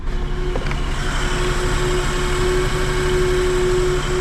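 A 1990 Mitsubishi Bravo van's engine, mounted under the seat, fires up and settles into a steady, loud idle with a constant low hum and a sustained mechanical whine throughout.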